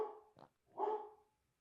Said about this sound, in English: Cue the dogs barking